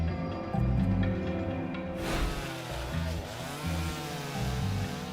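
A chainsaw runs loud and close while illegal loggers fell a cedar, the engine holding a steady buzzing drone with revving surges that rise and fall throughout.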